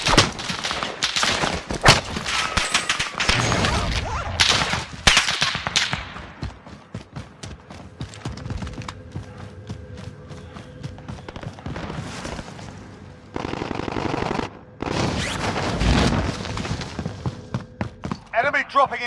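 Gunfire and impacts crackle in the Call of Duty Warzone Pacific video game, dense bursts of shots and thuds at first, then sparser pops, with a voice calling out in between.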